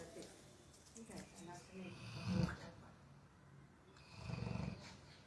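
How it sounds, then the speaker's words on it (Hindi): A sleeping dog snores, two deep rumbling snorts a couple of seconds apart over soft breathing, close and fairly quiet, with some faint background noise between them. "खर्राटे लेता हुआ कुत्ता"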